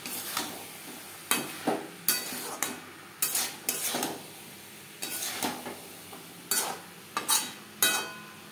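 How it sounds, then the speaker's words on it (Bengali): Peas cooked with spices and boiled potatoes are stirred in a pan. A spoon scrapes and knocks against the metal in irregular bursts over a faint sizzle, close by, with no speech. "মশলার সাথে মটর 2-3 মিনিট নাড়াচাড়া করে নেওয়ার পর দিয়ে দেবো সেদ্ধ করে রাখা আলু"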